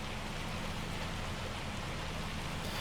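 In Farming Simulator 25, hail falls steadily in dark weather as a dense, even hiss of pelting ice, soft and constant, with no talking.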